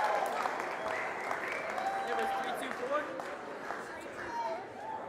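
Audience applause at a live ski speaker-series event with a prize giveaway, steady clapping from a crowd that holds at a fairly even level for several seconds, with scattered voices and chatter mixed in.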